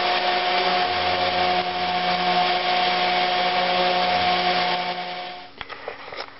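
A power sander whirs on a wooden chair leg with a steady, high-pitched grinding whine for several seconds, then cuts off, leaving a few faint knocks.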